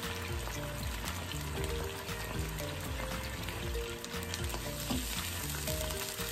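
Walleye fish cooks in a pan at a rolling boil, with soy sauce added, giving a loud, dense, unbroken sizzle and bubbling that fills the whole stretch without any voice.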